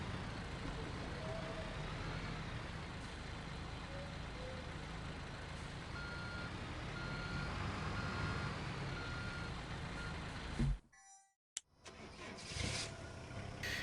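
A dump truck in the Construction Simulator 3 video game backs up with steady, evenly spaced reversing beeps over a low engine rumble, before the ambience cuts out briefly.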